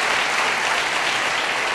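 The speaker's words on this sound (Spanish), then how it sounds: "Denle un fuerte aplauso a nuestro Dios." Dense, loud applause from a church congregation, a continuous wash of clapping with no pauses.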